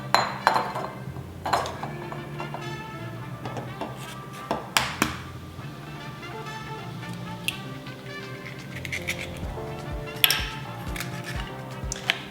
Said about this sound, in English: before I start mixing that, I'm going to crack our eggs